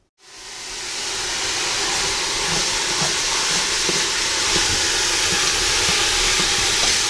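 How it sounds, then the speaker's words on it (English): About three pounds of 80-20 ground hamburger browning in a pot for keto pumpkin chili, a loud steady sizzling hiss that starts abruptly and holds evenly throughout, close by and with no talk. "I am browning approximately 3 pounds of 80-20 hamburger"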